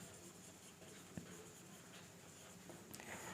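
Marker or chalk writing on a board during a physics lesson on conductance, heard as faint scratchy strokes with a soft tap, set against a steady room hiss.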